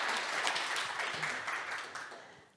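Conference audience applauding their moderator at an international water management conference, a steady wash of clapping from a medium-sized crowd that holds level and then slowly fades toward the end.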